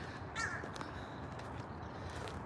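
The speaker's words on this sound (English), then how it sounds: "Lots of loud birds around." Crows cawing loudly outdoors at a wintry Jefferson Memorial in Washington DC, a short burst of harsh caws early on, then fainter calls over a steady ambient background.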